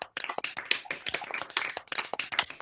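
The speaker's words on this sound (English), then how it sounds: "I now warmly welcome you to unmute yourselves and cheer and clap loudly for each other" Graduation attendees of a law and politics school clapping over an online call after unmuting, a few close, uneven hand claps in irregular rhythm with gaps between, sounding sparse rather than a full crowd.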